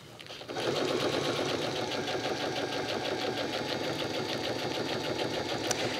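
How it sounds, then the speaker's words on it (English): Sewing machine top stitching raincoat fabric, a fast, steady mechanical chatter that starts abruptly after a brief pause and runs loud and even throughout, close to the ear. "Again, I'm just top stitching on both sides, equal distance apart from each other."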